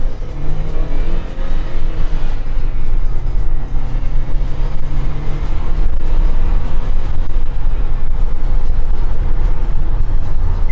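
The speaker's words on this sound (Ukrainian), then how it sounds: "Будемо бублики крутить." A rear-wheel-drive van running on methane or propane gas doing donuts, with a loud, sustained engine roar and rumbling road noise close up and throughout.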